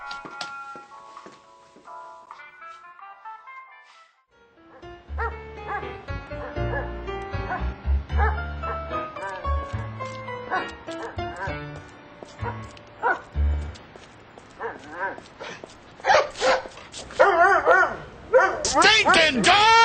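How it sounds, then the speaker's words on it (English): Dogs bark, yip and whimper in short irregular bursts that grow louder and more frantic toward the end, mixed with other sounds after a quiet opening. "What the hell do you have to bark about?"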